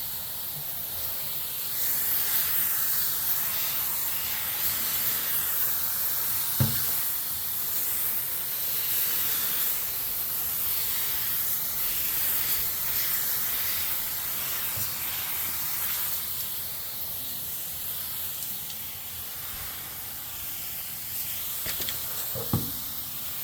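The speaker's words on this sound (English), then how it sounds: "I just went over it super quick with a hose, very gently spray" A garden hose sprays water gently over a grill in a steady, soft hiss that lasts throughout, with a couple of faint clicks and no talking.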